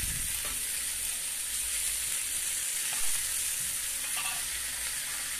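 Paneer tikka held on skewers cooks over a direct flame on a stove, giving a loud, continuous hiss and crackle that stays steady throughout, with no voices.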